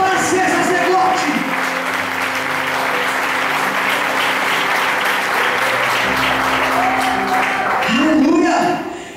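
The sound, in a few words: applause from church congregation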